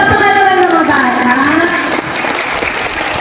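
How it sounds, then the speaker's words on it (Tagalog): Children clap together at a community feeding program, a steady burst of applause that softens slightly midway, with a voice speaking over it. "Yun ang palakpak."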